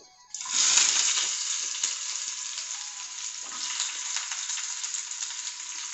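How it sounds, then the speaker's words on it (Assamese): Chopped onion and red chili hit hot mustard oil in a pan and burst into a loud, steady sizzle that keeps crackling close by, with a few faint stirring scrapes. "ইয়াতে পিঁয়াজখিনি আৰু জলকীয়াখিনি ৰঙা হোৱাকৈ ভাজি ল'ম"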